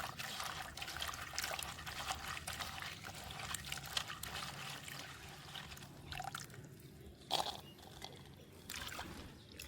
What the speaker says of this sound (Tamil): நான் இப்போ இந்த பாவக்காயை கழுவி எடுக்க போகிறேன்